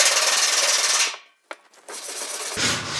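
A metal slapper striking warped sheet metal on a 1940 Ford-inspired body panel, a long harsh metallic wash cut off, then a sharp tap and a rougher scraping stretch, close and loud with no talk.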